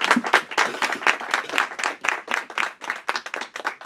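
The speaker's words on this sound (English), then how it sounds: "we should give Margaret a round of applause for being here." An audience at a panel discussion claps and applauds for a few seconds, a lively patter of many hands at close range.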